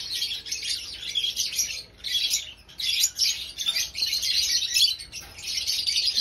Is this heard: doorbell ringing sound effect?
no